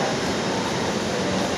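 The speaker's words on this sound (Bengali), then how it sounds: "কিছুক্ষণের মধ্যে এই ট্রেনটা ছেড়ে দিবে" A metro train stands at Motijheel metro rail station in Dhaka, the first stop on the line to Uttara Diabari, giving off a loud, steady rumbling hum close by with no voices.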